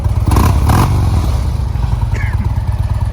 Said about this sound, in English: Those S&S slip-ons aren't super loud, but they got a good sound to them.